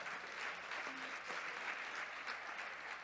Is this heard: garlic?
no